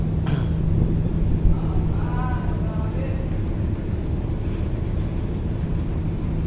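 Strong wind buffeting the microphone at the Bakauheni ferry harbour, a steady loud roar throughout, with faint talk and a distant tonal engine hum partway through.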